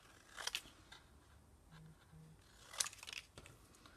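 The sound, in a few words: cutting out stamped paper pieces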